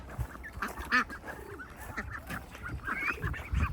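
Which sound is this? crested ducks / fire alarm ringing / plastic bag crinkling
crested ducks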